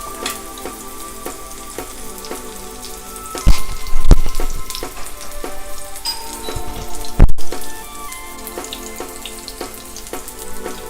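Banana sweet rolls fry in hot oil, a loud continuous sizzle with crackling pops that swells when the pieces are turned, with occasional sharp clicks of utensils nearby.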